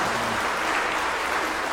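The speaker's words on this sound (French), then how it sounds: "Très bien, applaudissez." A congregation at a Sunday morning Mass applauds in church, a dense, continuous patter of many hands clapping at once, fairly close and steady throughout.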